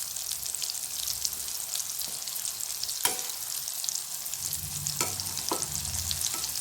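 Tapioca (kappa) snack pieces frying in hot oil, a steady soft sizzle with a few sharper crackles and stirring clatters partway through, moderately near, no voices.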